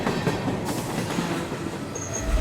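A train rushes past at speed, a loud continuous rumble with rail clatter and a brief wheel squeal, close by and with no voices.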